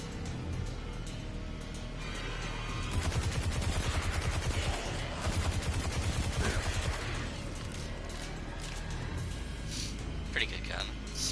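Bursts of rapid automatic gunfire in Destiny 2, two clustered volleys of sharp repeated shots at moderate loudness, set against ongoing game ambience with a voice talking over it.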